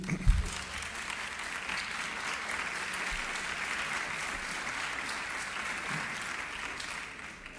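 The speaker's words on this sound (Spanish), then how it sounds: "Se oyó nada más la mitad del aplauso." A crowd applauding at a national tourism forum in Mexico, steady and fairly full clapping that holds evenly throughout, opening with a brief louder knock.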